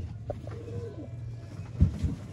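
Pigeons of a red-beaded, golden-bred fancy line coo softly at close range, with a low rolling coo early on and a couple of stronger bursts near the end over a faint background hum.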